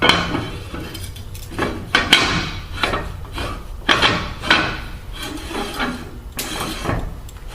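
Metal clanks and scraping knocks as a suction cap is refitted and tightened on a Darley fire pump, with irregular close taps and rubbing sounds throughout.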